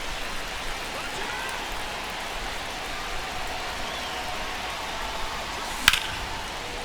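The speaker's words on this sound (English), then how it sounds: "the field's not going to be able to hold up if the rain gets any worse than this" Rain falling on a ballpark in MLB The Show 25, a constant soft hiss of drizzle that runs evenly throughout, with one brief sharp tick near the end.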